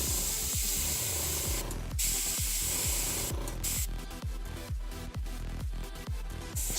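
An airbrush sprays paint in steady hissing streams, broken by short releases and quick repeated bursts of air, close and fairly loud, with no one talking.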